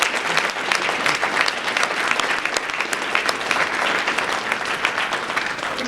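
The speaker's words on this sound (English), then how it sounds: "Please give them a round of applause as well." A room of people at a school district's elementary essay contest gives sustained applause to school principals, a thick, even roar of clapping that carries on steadily for several seconds with no speech over it.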